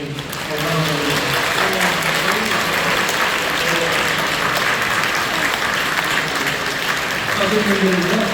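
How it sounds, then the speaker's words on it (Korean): Warm, sustained applause from a church congregation welcoming newcomers, a dense continuous patter of many hands filling the room for several seconds. "우리 성도님들도 뜨겁게 박수로 환영해"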